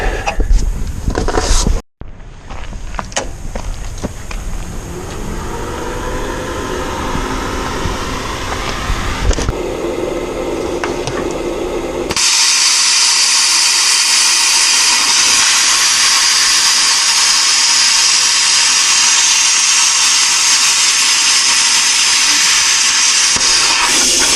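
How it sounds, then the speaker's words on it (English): Plasma cutter slicing a slot into metal during a TH400 transmission oil pan job: a loud, steady roaring hiss that starts after a brief cut-off and turns brighter and harsher partway through, continuing alone without talk. "I just gotta get in here with the plasma and make a slot"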